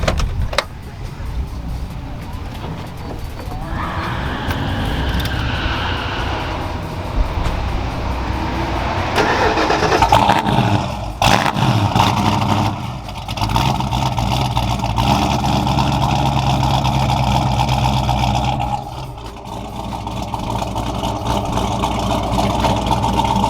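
A Ford Mustang Foxbody, apparently fitted with a Holley Sniper fuel injection system, cranks and starts, then idles loudly and steadily for about twenty seconds with a rough, throaty engine note close by.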